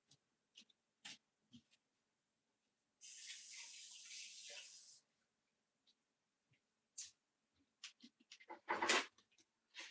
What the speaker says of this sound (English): let me go rinse my hand again